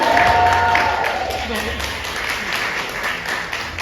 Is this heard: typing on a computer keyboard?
no